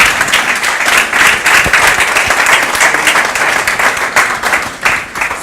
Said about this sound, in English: Please join me in giving a round of applause to the panel.